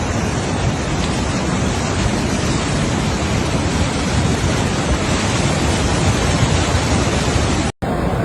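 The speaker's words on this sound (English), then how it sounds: "Mezitli'de dere taşmış." Rushing floodwater from an overflowing stream in Mezitli, Mersin, during flash flooding, a steady, loud, broadband roar that continues unbroken for several seconds with no voices, then cuts out abruptly near the end.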